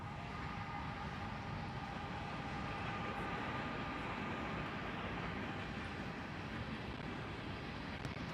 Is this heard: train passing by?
yes